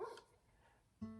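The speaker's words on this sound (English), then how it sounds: "he's out there barking at my chickens" A dog out in a backyard barks at the chickens kept there, two short, faint barks about a second apart heard from a distance.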